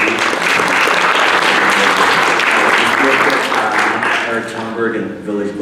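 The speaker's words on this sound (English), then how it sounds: "Please give a round of applause for Balaji" An audience gives a loud, sustained round of applause for Balaji Srinivasan of Coinbase at a Village Global talk, with a voice audible over the clapping as it tapers toward the end.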